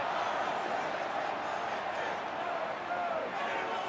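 A football stadium crowd at an AFL match between Melbourne and Richmond keeps up a steady, dense roar throughout, with a commentator's voice heard faintly over it.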